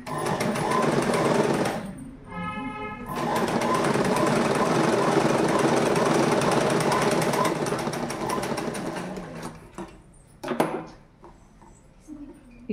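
A sewing machine stitches a pleat on a school uniform knicker, a loud, steady, rapid mechanical whirr running for several seconds after a brief pause near the start, then stopping with a few clunks.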